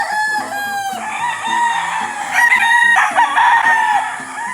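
A straight-breed stag rooster on a rainy-day farm crows loudly and close by, drawing out repeated harmonic calls mixed with short clucks, with no talking.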